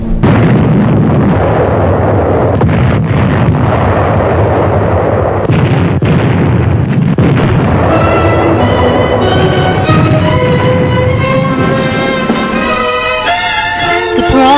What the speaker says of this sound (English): The Pearl Harbor bombing marked America's entrance into World War II.